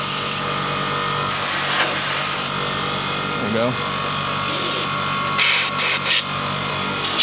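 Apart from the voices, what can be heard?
compressed air spray blasting dust from PC graphics card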